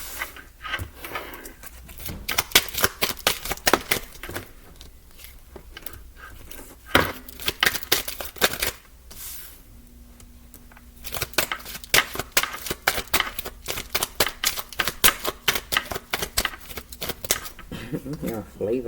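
Tarot cards being handled and laid down one after another, giving a dense run of crisp papery slaps and shuffles close by, with a short lull in the middle before the card handling resumes.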